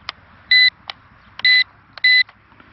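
Beeps from a Maginon QC-70 SE drone remote control switching on: three short, loud, evenly spaced electronic tones, each with a faint click before and after.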